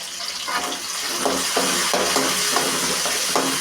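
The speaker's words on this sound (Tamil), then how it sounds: "வெங்காயம் தக்காளி நல்லா வதங்கணும்" Onions and tomato sautéing in a pan for chicken curry, a steady sizzle with periodic stirring scrapes, close and continuous with no voices.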